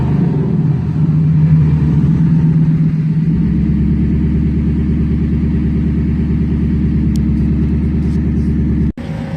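A Ford Mustang engine that has sat a long time on bad gas idles roughly: a loud, steady, uneven low rumble with pulsing lope that continues throughout, ending in a brief dropout.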